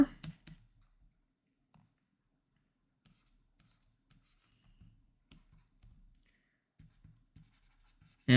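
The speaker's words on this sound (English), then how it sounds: "let's just write these down one last time for old time's sake" A pencil scratches math symbols onto scratch paper in a string of brief, sparse strokes and taps, close and quiet. Faint rustling comes at the start and end.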